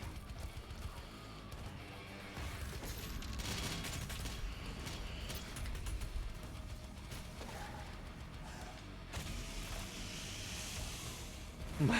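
Micro missiles firing in the video game DOOM Eternal, a dense, continuous rattle of rapid shots and explosions that runs loud throughout, with game effects layered beneath.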